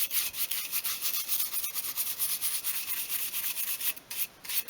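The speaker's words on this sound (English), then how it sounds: "use a soft brush just to remove all of the sanding dust from between the grooves" A soft brush sweeps sanding dust out of the grooves in a small wooden 1/12 scale garden shed model, giving quick, repeated scratchy strokes in a steady rhythm, close up, with no talking.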